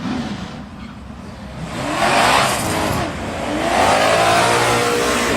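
Drag race cars launch side by side, one a 1967 Chevelle, with loud engines roaring and revving up as they pull away, the sound swelling in waves.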